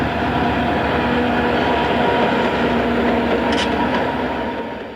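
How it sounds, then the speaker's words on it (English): An eastbound Illinois Central freight train, number 111, led by three GP35 locomotives and a GP38-2 at Centralia, passes close by in a loud, continuous rumble of engines and rolling wheels. "First eastbound number 111 is led by a trio of GP35s and a GP38-2"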